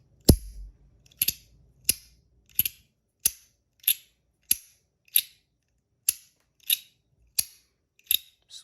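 A Compoform Astronaut Coin fidget toy clicks over and over: about a dozen sharp, crisp snaps spaced roughly every half to three-quarters of a second, close and distinct against near silence, with no talking.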